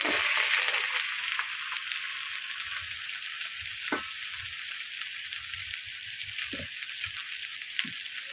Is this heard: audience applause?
no